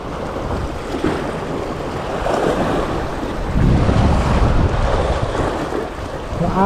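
Strong wind buffets the microphone aboard a small fishing boat at sea, roaring and gusting unevenly over the wash of waves and surf, with no talking.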